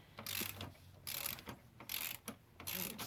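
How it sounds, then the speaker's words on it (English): A ratchet wrench loosening 5/16 bolts on the carburetor of a Briggs & Stratton Quantum engine, close, rapid clicking bursts in four short runs separated by brief pauses. "So we're just going to crank those off real quick."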